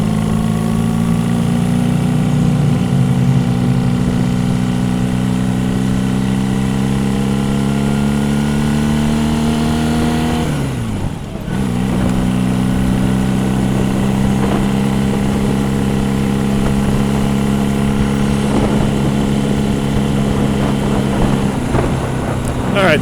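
An older motorcycle engine runs loud and close after slipping out of gear, its steady drone shifting in pitch, dipping sharply once midway and then settling back into a droning run.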